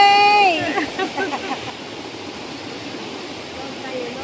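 A river rushes in a steady, broad wash of flowing water, close and constant, with a person talking briefly over it at the start.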